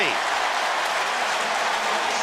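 A stadium crowd at an NFL game roars and cheers loudly in a dense, continuous wash of noise, with a commentator's voice underneath.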